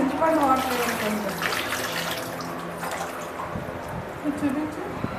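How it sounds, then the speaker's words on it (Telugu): Tamarind water poured into a bowl of ugadi pachadi, a steady liquid pour and splash running under a children's voices and chatter at close range. "చింతపండు వాటర్ వేయండి."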